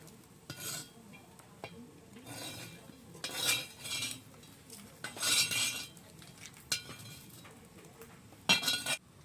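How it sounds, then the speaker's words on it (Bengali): A pot lid is lifted and food is stirred in a pan while cooking chicken momo soup: scattered metallic clinks and scrapes of lid and utensil, fairly close, with soft pauses between bursts. "ঢাকনাটা তুলে আমি একটু নাড়াচাড়া করে দেখছি।"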